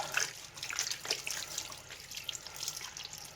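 Tap water runs into a sink while Mean Green hand cleaner and Rust-Oleum black paint are rinsed off hands, a steady close splashing trickle with small uneven spatters and no voices.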